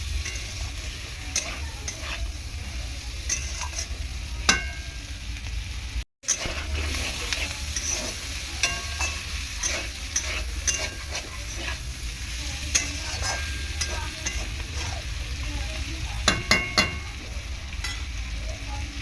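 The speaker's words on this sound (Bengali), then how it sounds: "এরকমভাবেও সুন্দরভাবে চিংড়ি মাছ ভাজা যায়" Prawns fry in oil with a soft continuous sizzle, punctuated by scattered clicks and taps of stirring, quiet and close.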